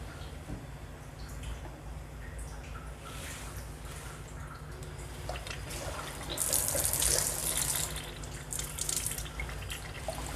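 Water pours steadily from a Kangen water ionizer machine, a soft continuous splashing stream that grows slightly louder and brighter partway through.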